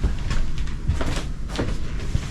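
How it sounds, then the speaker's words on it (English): Door of a vintage Balboa motorhome camper van being shut from inside, a few knocks and rattles over a steady background hiss. "I'll close the door."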